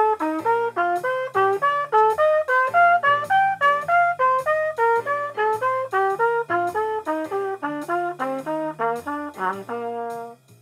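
Melodic instrument plays a major scale pattern in inverted fourths for jazz improvisation, each step starting on a top note and dropping a fourth, a steady stream of clear, evenly spaced notes climbing upward and ending on a held tone, alone.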